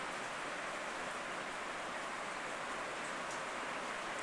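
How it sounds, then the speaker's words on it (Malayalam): Heavy rain pours outdoors in a steady, even hiss with no break or change in level, and no voices or other sounds rise above it. "ഇവിടെ പുറത്ത് നല്ല മഴയാണ്, അതിൻ്റെ സൗണ്ട് ചിലപ്പോൾ ഡിസ്റ്റർബൻസ് ആയി നിങ്ങൾക്ക് തോന്നാം"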